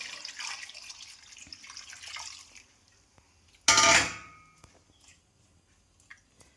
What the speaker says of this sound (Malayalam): അപ്പോൾ നമുക്ക് പാകത്തിന് വെള്ളം ഒഴിച്ചു കൊടുക്കാം.